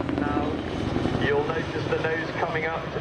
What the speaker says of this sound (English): So here's the aircraft running